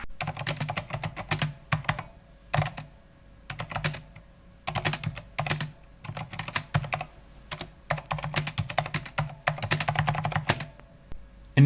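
Corsair mechanical keyboard with MX silent switches and O-rings on an aluminium base, typed in quick bursts of clacking keystrokes separated by short pauses, close and fairly loud with a metallic clang.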